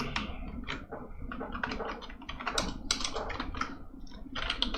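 Someone types a terminal command on a computer keyboard, a quiet close run of irregular key clicks with no speech.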